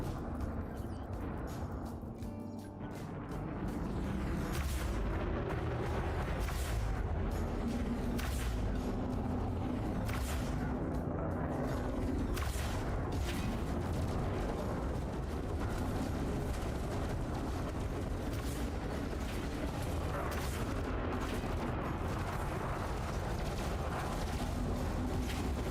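Spaceship multi-cannons firing during combat in Elite Dangerous, a dense, continuous mechanical rattle of rapid shots mixed with rumbling engine noise that runs steadily for about twenty seconds after a brief lull at the start.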